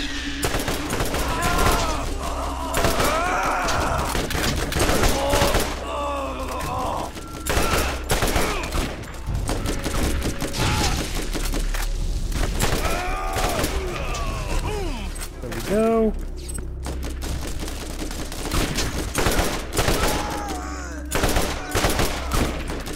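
Borderlands combat with rapid, sustained gunfire crackling throughout, dense volleys of shots mixed with mechanical clatter, while a voice talks over the fighting.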